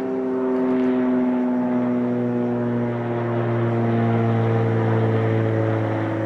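Airplane passing directly overhead, a loud sustained engine drone with steady low tonal hum that swells slightly and holds throughout, no voices.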